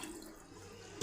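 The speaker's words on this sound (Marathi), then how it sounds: "आता जे आपण मटणाचं सूप काढून ठेवलंय ते आपण याच्यामध्ये घालून घेऊया" Homemade mutton soup poured into a clay pot of fried masala for a village-style mutton rassa, a soft steady liquid pour that ends in a louder splash.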